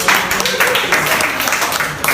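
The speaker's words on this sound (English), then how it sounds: "Let's give him a applause." Students in a college English communication class applaud a classmate: steady, fairly loud clapping from a group at close range, with voices mixed in underneath.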